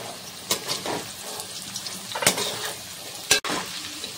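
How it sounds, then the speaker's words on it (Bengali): Carrots and beans stir-fried in a pan for a vegetable dal give a steady sizzle, broken by sharp scraping stirs at intervals, close and with no talking. "তো বিনসটা দেওয়ার পরেও আমি 2-3 মিনিট মতো নেড়ে চেড়ে নিয়েছি"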